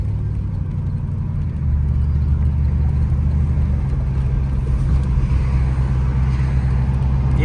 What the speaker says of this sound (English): It's got some glass packs on it. It sounds good.